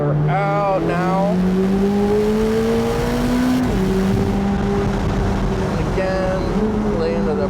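A 2025 Corvette ZR1 accelerating hard on the Daytona track, its engine note climbing steadily, dropping with a gear change, then climbing again, loud and close, with a voice talking over it.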